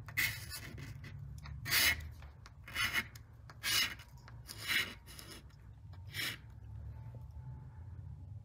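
A piece of sheetrock is dragged across an old chalkboard in a classroom of an abandoned boys' school, giving about seven separate rasping, scraping strokes with quiet gaps between them.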